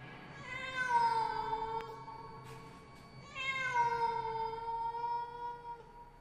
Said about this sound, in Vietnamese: Một con mèo đen đang nằm thủ lù ở đó kêu ngoao ngoao